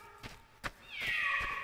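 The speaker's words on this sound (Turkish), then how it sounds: "Şu kedilere bak." Cartoon cats in a Turkish children's song video give a rising, drawn-out meow after a few soft thumps, close and fairly loud, with no talking.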